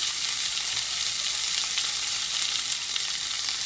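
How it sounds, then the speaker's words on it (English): Chopped green chilies and whole spices frying in hot oil for jeera rice, a bright steady close sizzle and crackle with a light rustle of stirring, no voices. "I'm going to add some roughly chopped green chilies, 5 to 6 green chilies"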